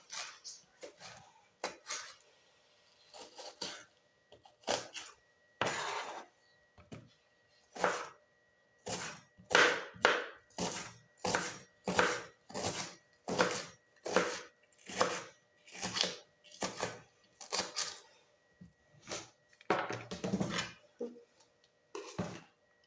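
An onion is knife-chopped into thin slices on a board, giving a long steady run of sharp, evenly spaced chops, close and loud with brief pauses between bursts and no talking.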